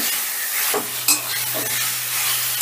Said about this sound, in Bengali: এবারে আলুটাও মশলার সাথে এই মিনিট খানিকের মতন একটু মিশিয়ে নেব।